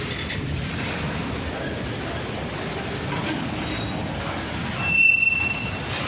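Norfolk Southern and Conrail freight trains roll past at close range, giving a continuous rumble and clatter of rail cars with brief squealing wheel tones and a swelling burst near the end.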